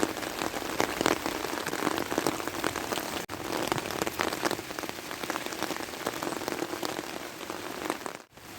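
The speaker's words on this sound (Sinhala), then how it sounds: "වැස්ස නතර වෙන්නේ නැහැ නේ මගුල" Steady rain pours in a rural village setting, a dense, continuous hiss of drops striking surfaces, loud and even throughout with a brief dip partway and no talking.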